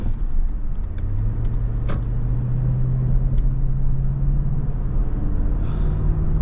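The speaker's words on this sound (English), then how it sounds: "Let's see what it's like merging onto the highway, and let this big old V8 open herself up and sing." Engine of a 2018 Toyota Land Cruiser V8 accelerating while merging onto a highway, a continuous cabin drone whose low tone rises steadily as the engine pulls, with faint rattles and no talk.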